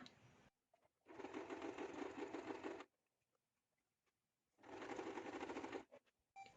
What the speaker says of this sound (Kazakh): Енді осы домалақты айналысын барлығын машинкамен жүргізіп шығамыз.